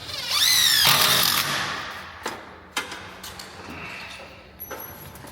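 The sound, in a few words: driving a 3-inch screw into a cedar shed rafter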